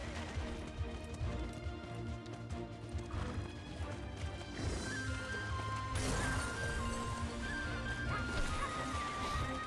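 Horse hooves clip-clop steadily in a horse-riding video game, a continuous rhythmic trot under busy game sound and occasional whinnies.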